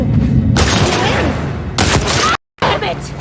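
Gunfire in The Last of Us Part II, loud bursts of shots and booms in close succession with a brief silent gap, while a player talks over the action.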